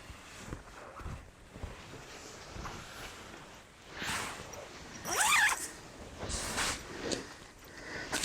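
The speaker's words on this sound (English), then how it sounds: "Let's do the zips up." Zips on a camping hammock are pulled closed in several rasping strokes, close and fairly loud, with rustling fabric and handling noises between the pulls.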